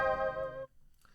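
A Hydrasynth sample pitched up an octave and played in Pigments sounds a bright, harmonically dense tone that holds for about half a second, then cuts off abruptly, leaving faint low rumbling and a brief quiet blip.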